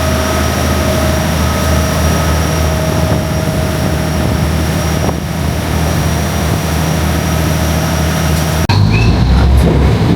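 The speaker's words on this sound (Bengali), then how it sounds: "এই হলো বোট, খুব সুন্দর সার্ভিস।" A river boat taxi on a Bangkok river gives a loud, steady engine drone with a constant hum that runs unbroken, then shifts abruptly in tone near the end.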